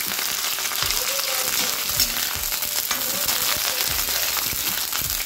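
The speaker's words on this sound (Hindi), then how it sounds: "तो यहाँ पर मैंने डाली है गोभी और इसे हमें सॉटे करना है" Cauliflower pieces sauté in a little oil for a halwai-style mixed vegetable dish, a steady close sizzle with occasional stirring scrapes running throughout, with no talking.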